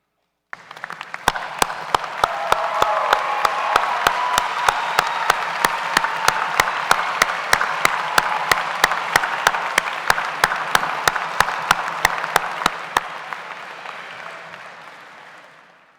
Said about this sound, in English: Graduates, I invite you now to stand, turn around, and applaud in thanks those who have supported you.